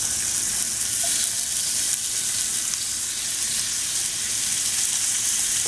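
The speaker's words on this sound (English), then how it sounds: "A little sizzle there." Lamb chops seasoned with rosemary sizzle loudly and continuously in a skillet, a close, dense frying hiss with no talk over it.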